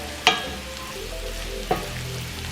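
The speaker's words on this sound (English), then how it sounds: "I'm gonna give the carrots and onion like a couple more seconds" Carrots and onion sizzle steadily in a hot pan for shrimp fried rice, with a couple of sharp stirring clanks over the continuous frying hiss.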